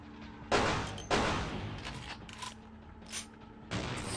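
Pistol shots in the video game Vampire the Masquerade: Bloodlines, several sharp loud reports spaced irregularly with fading tails and mechanical clatter between them.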